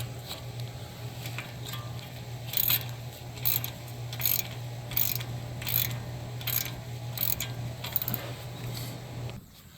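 A socket ratchet tightens a 16 millimeter bolt on a 2013 Dodge Dart 1.4L engine, making a series of close, evenly spaced clicking bursts over a steady low hum, each stroke a short crisp rattle.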